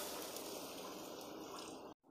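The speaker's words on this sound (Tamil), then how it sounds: "சர்க்கரை கூடவே தண்ணி சேர்த்துக்கோங்க." Water being poured onto sugar in a pan for syrup makes a steady, soft splashing rush close by, running continuously before stopping abruptly.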